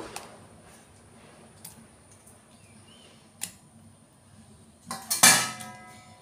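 Hilsa fish pieces are set into a pan over mustard paste and mustard oil for steamed ilish, quiet metallic clinks and taps followed by a louder clatter of utensil against pan near the end.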